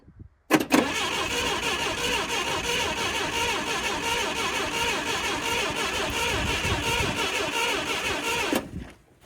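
An auction-bought forklift engine cranking, a loud, continuous starter churn with a rhythmic pulsing beat lasting about eight seconds before cutting off abruptly, without catching.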